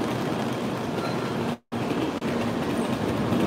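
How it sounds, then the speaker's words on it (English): Inside the front car of a Tokaido Shinkansen bullet train at Tokyo Station, a steady broadband rumble with a faint rail hum runs throughout, briefly cut by a short dropout, with no voices. "Alright, we're in the front of the Shinkansen."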